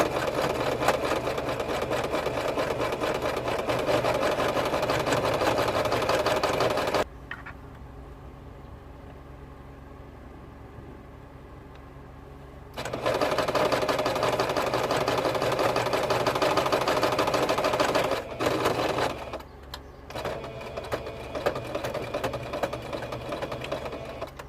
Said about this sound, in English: I will do a double stitch at the beginning to lock the stitch in place. Then I go backwards and come back forward again.